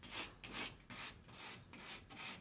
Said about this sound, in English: Gently start sanding where you want the black